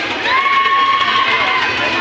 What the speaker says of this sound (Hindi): लोगों की चीख